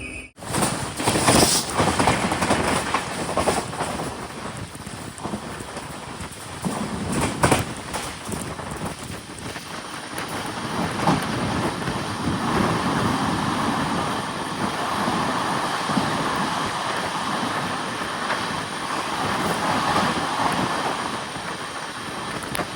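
Amrit Bharat Express pulling into Kozhikode railway station, a steady rolling rumble of wagons that swells and holds for over twenty seconds with occasional clacks and bursts, heard close and loud without voices.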